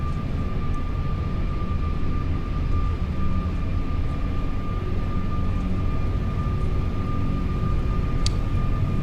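Steady, loud roar and whine of Airbus A330-300 freighter engines at takeoff thrust in a flight simulator, holding evenly throughout with a thin tonal hum over broadband rumble.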